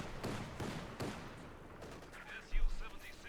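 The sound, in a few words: DP light machine guns firing in the video game Company of Heroes 2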